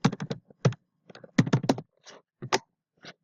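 Keys clatter on a computer keyboard in an Excel session, a burst of quick taps followed by scattered single keystrokes, close and clear with no talking.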